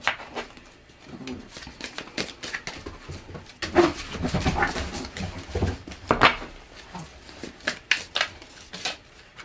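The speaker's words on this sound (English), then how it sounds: "This deck is so hard to shuffle." Cards riffle and slap together in short bursts, close by, with a voice speaking briefly in between.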